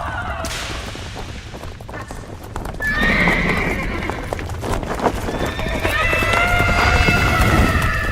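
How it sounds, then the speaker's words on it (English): A spooked horse named Kahlua gallops with loud, rapid clip-clopping hooves and lets out a sharp whinny, during a tense radio drama scene with frantic voices and swelling music. "Slow down, please. You're spooking my horse."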